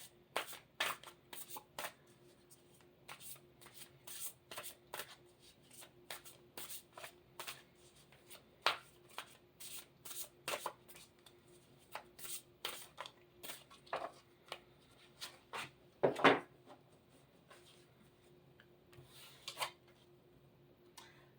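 A mediumship training card deck is shuffled by hand, with repeated crisp riffling bursts and soft card flicks scattered irregularly over about twenty seconds, faint and close.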